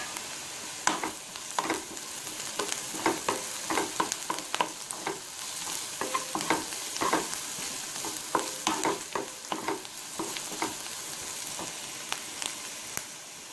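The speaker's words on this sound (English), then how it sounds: "My onion is almost fried. At this stage I'm going to add the garam masala." Onions and garam masala fry in a pan for Kerala kadala curry, a steady close sizzle broken by frequent scraping stirs of a spoon against the pan throughout, with no talking.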